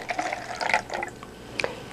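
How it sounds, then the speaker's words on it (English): Vodka poured into a plastic solo cup, a short close gurgling splash of liquid with bubbling and trickling over about two seconds, fairly soft, with no talk. "If someone poured a drink of vodka in here"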